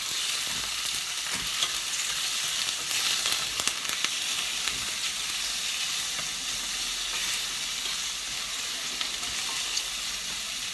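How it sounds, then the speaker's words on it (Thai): Seafood stir-fried in a hot pan for a Thai pad cha seafood dish gives a steady, loud, close sizzle and hiss with scattered crackles, continuous throughout with no talking. "เราก็ ใส่ซีฟู้ดลงไปเลย"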